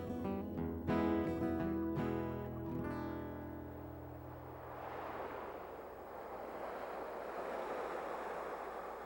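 Heavy ocean waves from distant storms pound a rocky New England shoreline, a broad, steady roar of surf and wash rising after a few seconds of sustained tonal sound, with no talking.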